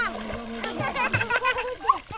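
Children bathing in a river in India splash and slosh the water, with a voice talking and shouting over the short, close splashes.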